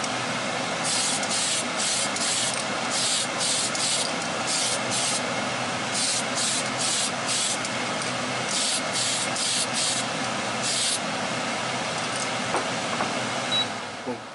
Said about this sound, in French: c'est à la bombe, donc ça va très vite